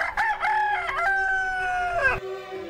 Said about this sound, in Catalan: el gall negre va cantar més fort que mai